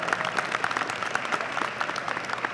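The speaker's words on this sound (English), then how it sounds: "Also a round of applause for having perfect attendance from 1st to 12th grade." A graduation ceremony audience claps in dense, steady applause, moderately distant and even, with no talk over it.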